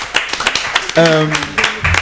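An audience at a student competition claps in short, scattered bursts of hand claps, close and fairly loud, while a person talks over them.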